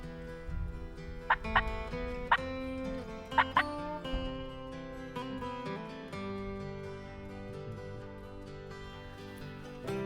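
Several sharp, warbling gobbles from wild Merriam's turkeys in Colorado burst out in quick clusters over a steady background of hum and music, the calls fairly close and loud.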